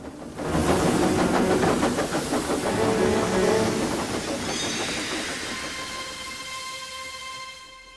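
A steam train pulling a goods train chugs to life with rapid rhythmic puffs and hissing, then gradually fades into a steady hiss with a sustained whistle-like tone.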